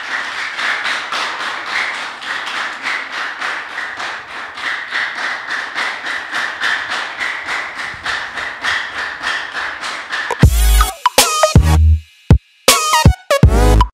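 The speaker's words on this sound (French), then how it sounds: "je vous demande de l'applaudir chaudement" A television studio audience applauds a guest on a French talk show, with steady rhythmic clapping sustained for about ten seconds. Sharp, loud percussive hits and thuds then break in near the end.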